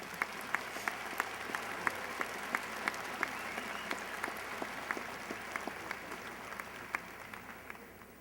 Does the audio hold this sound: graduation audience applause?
yes